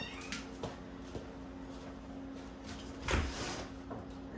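An indoor house cat lets out one clear meow late on, after a few soft knocks and bumps, over a low steady hum.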